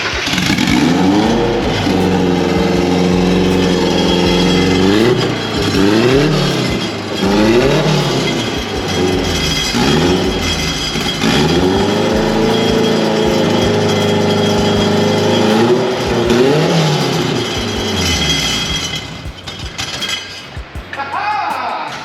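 A turbocharged Mazda Miata engine revs repeatedly, rising and falling in loud sweeps with a rattly exhaust edge, while people talk excitedly over it.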